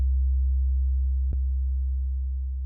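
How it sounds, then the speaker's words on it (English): Two equal-loudness sine waves form a steady low tone; when the second is rotated toward 180 degrees of phase a brief click occurs, then the tone continues and slowly fades as the waves begin cancelling. "See what happens if we rotate the second sine wave"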